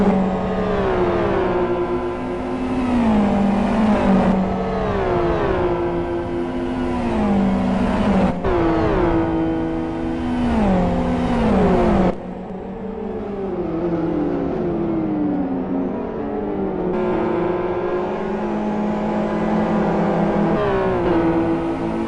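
Two XRR race cars battle side by side in a GT1 World Series 2013 round, engines revving loud and steady with repeated rising and falling gear-change sweeps and no pause.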